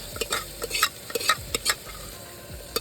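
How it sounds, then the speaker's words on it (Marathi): Dal lentils fry in a pan outdoors while a spoon stirs them. Quick scraping and clinking strokes come in an irregular rhythm over a soft, steady sizzle, all heard up close. "डाळ पण आता फ्राय करायला टाकलेली"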